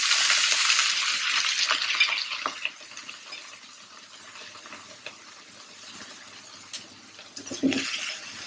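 Shrimp heads hitting a hot pan and frying, a loud hiss and sizzle at first that settles into a steady crackle, with a brief clatter of stirring near the end.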